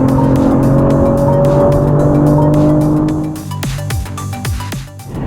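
BMW M340i facelift driving with paddle-shift gear changes, engine drone rising in pitch, then sharp, quick upshift cracks and revving as the car accelerates, loud and close.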